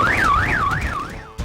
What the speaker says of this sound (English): Engines so loud they set off every car alarm in their path